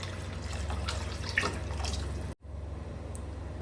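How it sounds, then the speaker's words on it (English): Water pours steadily into a pot of creamy kale, chicken and gnocchi soup, a close, even rush that breaks off briefly before resuming more quietly. "Gonna add a little bit more water."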